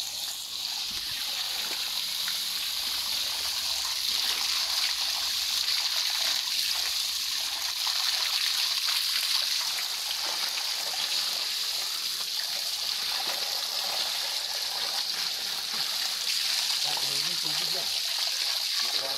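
Clear water trickles and splashes steadily in a stream at a hidden spot in Catanauan, Quezon, a bright continuous burble close by, with faint talk now and then in the background.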